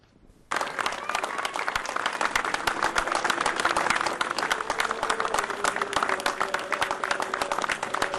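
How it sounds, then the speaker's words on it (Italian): A long round of applause at a funeral for a 44-year-old Romanian worker killed in a steelworks accident near Padova. The crowd's clapping bursts in suddenly after a near-silent moment, then stays dense and sustained to the end. "Un lungo applauso saluta Marian Brattu"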